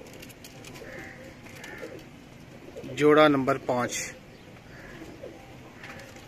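Neely kamanger and teddy pigeons cooing nearby in a loft of about 250 birds, soft throaty coos scattered throughout and a louder run of calls midway, with someone speaking briefly.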